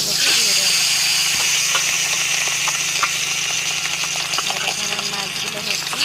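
Fish fry in hot oil in a wok, giving a loud, steady sizzle and hiss with scattered crackles and pops throughout.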